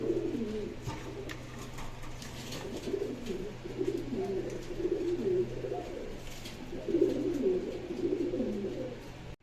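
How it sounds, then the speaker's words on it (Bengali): A pair of deep red Gorra pigeons coo steadily nearby, their soft throaty rolls repeating in waves with a low constant hum beneath. "ভিউয়ার্স, আপনারা এখন দেখতে পাচ্ছেন এখানে এক জোড়া গররা কবুতর"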